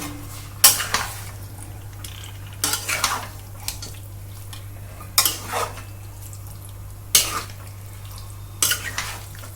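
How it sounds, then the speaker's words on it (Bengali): A spoon clanks and scrapes against a pan about five times at uneven intervals while chicken frying with turmeric in oil is stirred, with no talking. "চিকেনটাকে খুব সুন্দর করে নাড়াচাড়া করে মিক্স করে নিয়েছি"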